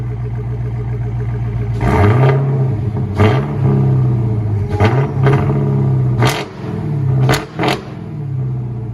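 Supercharged 6.2-litre HEMI V8 in a Dodge Challenger Hellcat, set to track mode with a muffler delete, revs loudly and close up in a series of sharp, repeated throttle blips over a deep idle rumble, with no talking.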